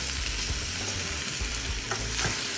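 A spoon stirs green onion into a pot of arroz caldo, giving a steady, close scraping and soft wet churning over a low sizzle, with no voices.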